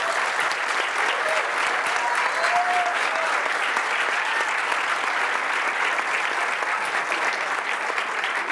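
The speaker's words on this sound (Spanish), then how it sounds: "para quien pido un fuerte aplauso" A crowd applauds at a book presentation, a broad even wash of many hands clapping for over eight seconds at moderate level with no clear break.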